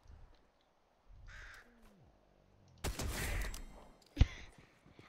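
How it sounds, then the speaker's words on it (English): A crow caws in a shooter video game, a few harsh calls early on followed by a loud noisy burst and a sharp crack near the end, with no one talking. "Oh, it's a bird."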